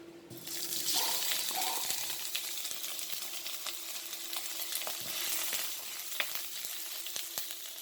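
Malabar spinach (alugbati) hits a hot pan and fries with a loud hissing sizzle that eases into a steady crackle, with a faint tone and occasional clinks of utensils nearby, no talking.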